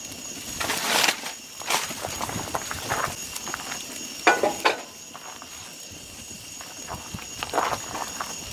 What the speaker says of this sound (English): this is a very hot fire, but I'm going to put the steaks on and keep them to the edge of the barbecue